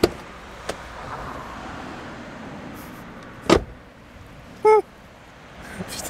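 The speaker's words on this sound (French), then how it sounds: "la porte s'enferme à chaque fois, c'est horrible" The door of a Mini Roadster convertible shuts with a sharp thump, followed a second later by a brief mechanical whir and a few light clicks over a low steady hum, close by with no talk.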